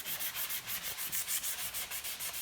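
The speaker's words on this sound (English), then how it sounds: "Get this all sanded down." Steady sanding of a part for a 1979 Malibu race car, a continuous abrasive rubbing with a regular back-and-forth rhythm, close and fairly quiet with no voices.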